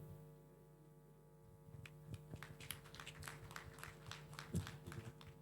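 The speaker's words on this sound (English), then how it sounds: "Those claps sounds to be very few." A few scattered claps from a small audience at a county health meeting, sparse and uneven, sounding close to mid-distance over a steady low electrical hum.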